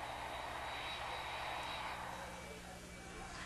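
A passenger airplane's engines drone in a steady, broad roar with a low throbbing undertone, continuous and fairly faint throughout.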